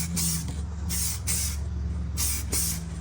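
A spray gun lays base color coat on a BMW E36 M3 bumper, giving steady close hissing bursts that start and stop in short passes over a constant low hum.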